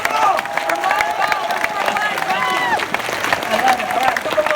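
An event audience applauds and cheers steadily for several seconds, clapping mixed with whoops and excited voices that sound close and lively throughout.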